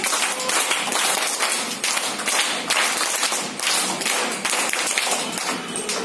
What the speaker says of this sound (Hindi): सब लोग एक साथ स्काउट ताली प्रारंभ।